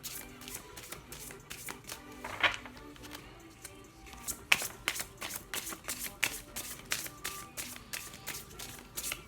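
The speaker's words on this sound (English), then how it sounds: "they like to be shuffled like this" A deck of oracle cards being shuffled, with a quick run of soft papery taps and riffles, close and fairly quiet, with no talking.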